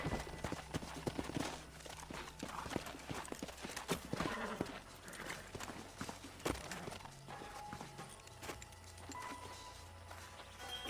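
Horses' hooves clip-clop at a walk across the ground in the Red Dead Redemption video game, a steady irregular clatter of hoofbeats with an occasional whinny and faint background sounds.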